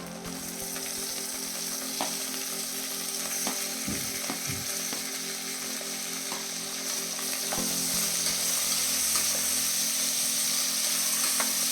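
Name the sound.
tomatoes sautéing in pan for mushroom biryani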